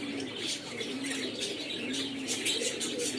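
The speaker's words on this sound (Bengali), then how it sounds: "দেশি কবুতর বলতে ওই যে উপরে দেখা যাচ্ছে এগুলো হলো দেশি কবুতর।" Native deshi pigeons on a pigeon farm coo softly and steadily at a moderate distance, a low continuous murmur with faint chirps layered over it and no voices.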